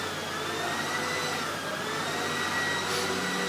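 Floor buffing machine making a single cleaning pass, a steady whirring motor drone held at even loudness throughout with no talking.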